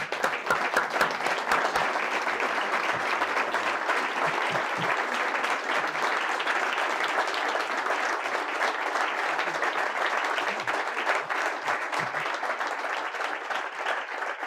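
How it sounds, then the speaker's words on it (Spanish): Sustained, dense audience applause at a book presentation in Madrid, a large crowd clapping steadily and loudly without pause, with faint voices mixed in. "les pido que podamos darles un aplauso a ellos."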